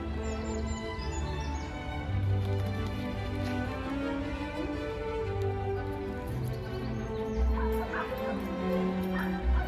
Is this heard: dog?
yes